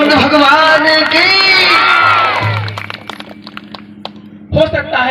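A large crowd under a pandal at a religious katha gathering cheers and shouts loudly together, and the roar fades to scattered claps before a fresh burst of voices.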